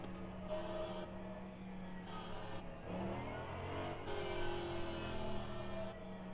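A DPi prototype race car in rFactor 2 during Le Mans qualifying, its engine droning and shifting pitch as it approaches, steady mid-level engine noise with a brief rising whine, under a faint radio voice.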